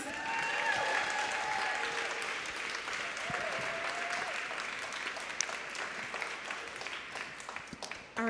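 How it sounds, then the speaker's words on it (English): Audience applause fills a tech conference hall after an extended-reality talk, steady dense clapping that holds for about eight seconds, with faint voices and a brief tonal murmur mixed underneath. "Round of applause."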